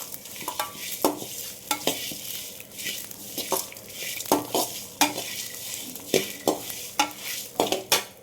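Black pepper and curry leaves dry-roasting in a kadai for garlic kuzhambu, with a spatula scraping and clattering against the pan in uneven bursts over a soft, steady sizzle, close and fairly loud.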